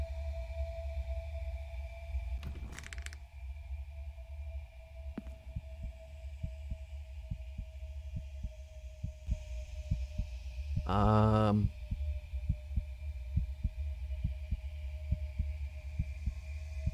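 A steady heartbeat sound effect from the horror video game Crimson Snow thumps softly and evenly over a low, humming ambient drone, with a few brief tonal chimes breaking in.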